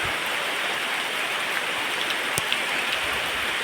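Steady rain hisses evenly, a dense wash of falling water with an occasional louder drop, no voices.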